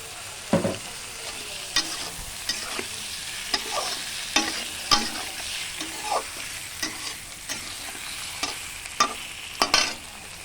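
Hilsa fish frying in hot oil for a Bengali hilsa and eggplant curry, a steady close sizzle broken by sharp crackles and spatters as the pieces are stirred, with no voices.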